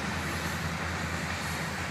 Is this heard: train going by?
yes